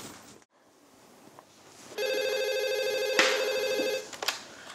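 A telephone rings in a detective drama scene, a steady electronic trilling tone that starts after a brief quiet stretch and keeps ringing loudly for about two seconds before cutting off.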